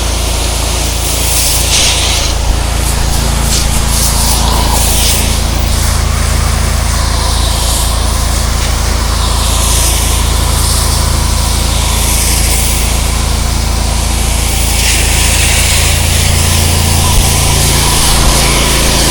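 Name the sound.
pressure washer spraying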